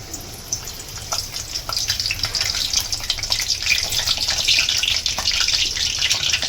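Curry leaves hit hot oil in a wok (kadhai) while prawn sukka is being cooked, producing close crackling and spitting pops over a rising sizzle that grows louder and denser through the clip.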